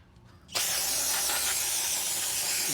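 After a half-second of quiet, brake cleaner bursts out as a loud, continuous aerosol hiss, sprayed up close onto greasy brake shoes from a Toyota Tundra axle.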